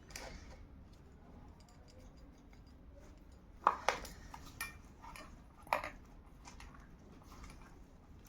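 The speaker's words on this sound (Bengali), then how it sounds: "কচুগুলো ওই জন্য দু ফালি করে দিচ্ছি" A knife slicing local taro corms in half in a home kitchen, a few short crisp cuts and taps against a board at close range, separated by quieter stretches with no talk.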